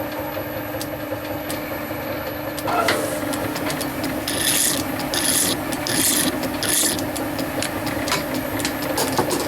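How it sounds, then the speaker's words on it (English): A 12mm metal rod is threaded by hand with a die, giving a steady rasping, rubbing scrape that grows louder and more rhythmic partway through, with repeated strokes and no talk. "It just needs to be threaded 12mm on each end."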